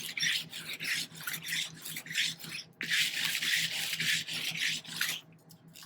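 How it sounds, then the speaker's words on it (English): A stiff plastic-bristled scrubber brush rasps back and forth over metallic foil on a card, a quick, close run of rhythmic scratchy strokes with a brief pause midway. "just grab a scrubber brush. These are just stiff plastic bristles,"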